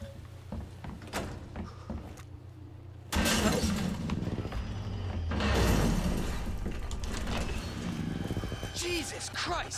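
In Resident Evil 2 Remake, a window's glass shatters as a character leaps through it, giving a sudden loud crash and spray of debris over game ambience. A voice talks faintly during the scene.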